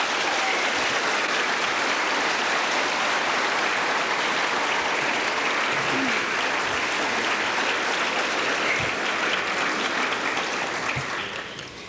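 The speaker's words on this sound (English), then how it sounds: "One more applause." A large audience at a 1985 high school graduation ceremony in Campbell River, BC applauds in a loud, dense, sustained wash of clapping that tapers slightly at the end.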